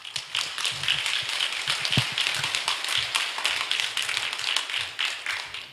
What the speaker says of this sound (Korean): 박수로 나오실 때 환영하겠습니다